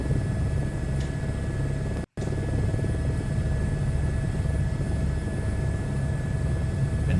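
A helicopter in Microsoft Flight Simulator 2024 gives off a steady, loud rotor and engine drone, cut by one very brief dropout to silence before the drone resumes.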